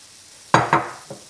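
Softened vegetables with paprika, basil and oregano for a tuna pasta sauce sizzle in a pan as they are stirred, giving three close scraping strokes, the first two strong and the last lighter, with no talking.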